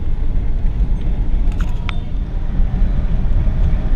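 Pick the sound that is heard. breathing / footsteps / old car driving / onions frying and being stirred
old car driving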